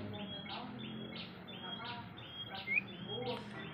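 Pet birds kept by a man in a countryside village give short, repeated chirps about once a second, fairly close, over a steady low background murmur.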